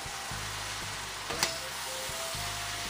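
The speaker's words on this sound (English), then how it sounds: "my shrimp's going in there now just to warm through. I'm gonna give it a stir." Shrimp warm through in a hot pan, giving a soft, steady sizzle with a few faint scraping stir strokes and a brief clink partway through.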